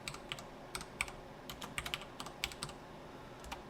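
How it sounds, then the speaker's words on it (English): Typing on a computer keyboard while working in Unreal Engine, a quick irregular run of close, light key clicks against quiet room noise. "why am I having trouble typing?"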